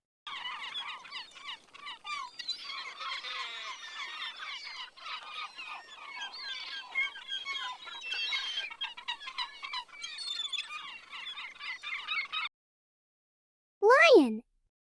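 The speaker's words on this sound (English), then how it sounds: "Seagull." A flock of seagulls calls continuously in a dense, overlapping chorus of squawks for about twelve seconds, then stops, followed by a short burst of a rising, squealing cry near the end.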